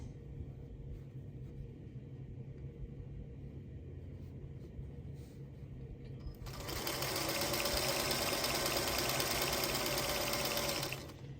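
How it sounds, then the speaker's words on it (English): A sewing machine stitching 5-inch quilt block pieces into a row, with a quiet idle hum that rises into a loud, steady, rapid motor whir for about five seconds before it stops. "So what I'm going to do is sew this into a row, and this into a row, and then join those three together."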